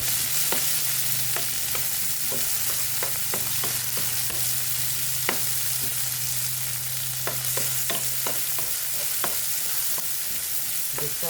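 Ingredients for corned beef sauté in a pan with a continuous close sizzle, broken by frequent sharp pops and crackles and a low steady hum underneath.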